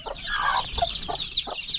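Hen and about forty young chicks clucking and peeping up close, a busy overlapping chorus of short calls with no talking.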